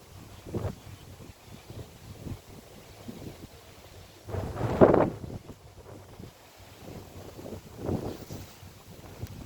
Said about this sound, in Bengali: প্রচণ্ড হাওয়া বইছে।